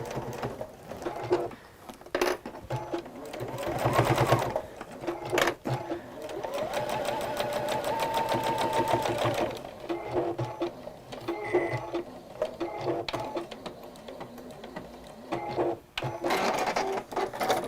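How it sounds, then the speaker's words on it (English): A home sewing machine runs close by in bursts of rapid, even mechanical stitching, a steady whirring chatter that stops and restarts several times, with a voice speaking at moments between runs. "once you've started sewing"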